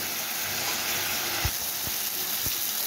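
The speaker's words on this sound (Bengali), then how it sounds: "একটু ভালো করে কষিয়ে নিতে হবে যাতে মশলার কোনো কাঁচা গন্ধ না থাকে।" Masala spices sizzle steadily in hot oil as they are sautéed, a constant close frying hiss with a few soft stirring knocks from the spoon against the pan.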